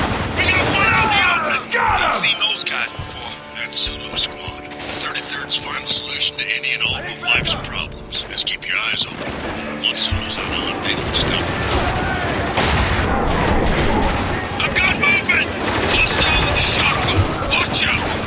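Rapid bursts of gunfire crackle almost continuously in the video game Spec Ops: The Line, with heavy booms and mechanical clatter mixed in, loud and dense throughout with brief lulls.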